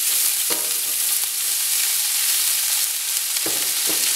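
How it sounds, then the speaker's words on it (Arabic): Chopped onion sizzling in hot oil in a pan, a steady loud frying hiss with a few brief stirring scrapes near the start and end, no voices. "دابا غادي ندير البصلة ديالنا تشحر، درت شي ديال الزيت سخنات"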